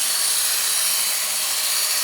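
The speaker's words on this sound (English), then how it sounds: "I'm going to go through the sharpening process just as I did with the red belt." A Work Sharp Culinary electric knife sharpener runs a blade across its belt, giving a steady, loud whirring grind that holds without a break throughout.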